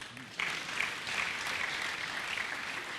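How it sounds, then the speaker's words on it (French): A church congregation applauds during a Sunday French-language service, a sudden burst of steady clapping from many hands that starts after a brief pause and holds evenly at moderate distance. "On acclame, docteur."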